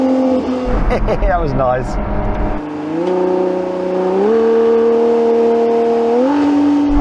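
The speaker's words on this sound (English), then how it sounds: "I'm just unnecessarily kicking down the gears to hear some noise." A hypercar engine revs loudly and climbs through stepped pitch rises as gears are kicked down. A short burst of talk and laughter comes first, then the engine sings on alone in the cabin.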